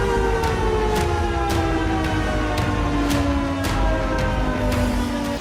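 An air raid siren wails around Lake Valdai, a loud sustained tone slowly falling in pitch, with repeated sharp clicks or pulses cutting through at regular intervals and no voices.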